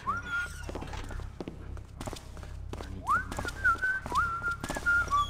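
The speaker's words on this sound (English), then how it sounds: "I think I hear the other guard approaching." Footsteps of an approaching guard in the stealth game Thief Gold, a series of soft thuds with a guard whistling a tune in short rising phrases, moderately close and growing louder toward the end.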